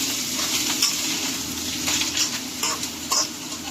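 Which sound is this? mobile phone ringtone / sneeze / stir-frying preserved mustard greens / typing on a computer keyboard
stir-frying preserved mustard greens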